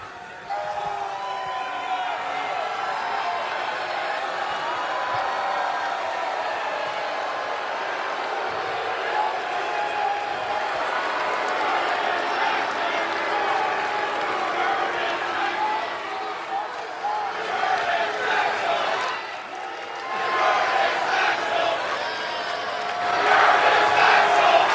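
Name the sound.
wrestling crowd chanting and cheering for Curtis Axel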